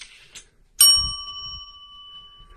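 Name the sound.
bell rung at a spiritist séance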